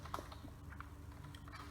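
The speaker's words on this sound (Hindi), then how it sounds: "तो हमें उसके लिए कमांड टाइप करनी पड़ेगी" A command is typed on a computer keyboard, a short quiet run of close key taps in an otherwise still room.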